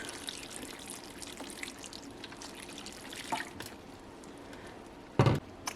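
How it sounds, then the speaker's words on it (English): Filtered water trickles and drips steadily into a pot of cabbage soup, with a brief louder splash near the end, close and without talk. "I am adding filtered water, but you can add the water that you want."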